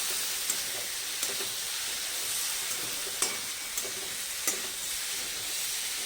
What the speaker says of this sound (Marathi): आता हे चांगलं परतून घ्यायचं आहे.